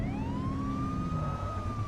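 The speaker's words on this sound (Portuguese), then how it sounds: "Giroflex, sirene." Police car siren in the video game The Precinct, a loud rising and sustained electronic wail over a low engine rumble, heard up close without speech.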